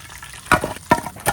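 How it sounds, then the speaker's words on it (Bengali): Batter-dipped prawns for tempura frying in hot oil, with sharp spitting sizzles as pieces hit the oil at about 0.5, 0.9 and 1.3 seconds over a faint, steady bubbling. "এখন এই চিংড়ি মাছ ব্যাটারে চুবাইয়া ভাজতে হইবে"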